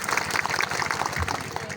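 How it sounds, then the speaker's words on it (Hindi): Audience at a Gondwana Gantantra Party political event claps steadily throughout, a dense, continuous applause under a voice over a loudspeaker. "एक बार ताली बजाएंगे।"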